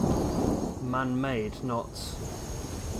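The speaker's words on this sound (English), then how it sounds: "Be nice if it wasn't night time and raining." Steady rain hiss and low rumbling weather ambience from a night-time storm in the video game Skyrim, continuous throughout, with someone talking over it in the middle.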